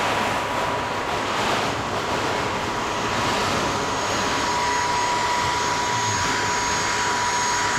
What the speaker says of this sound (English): that Fusion Heat Gun, way better for this window. It just covers a wider area.